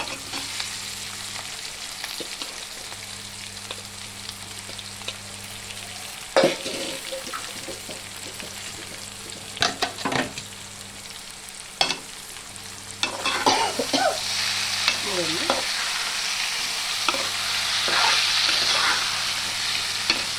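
Half a kilo of boiled potatoes frying in a pan while being stirred, a continuous sizzle under a low steady hum, with bursts of loud scraping and clanking spatula strokes, growing hissier toward the end, no speech.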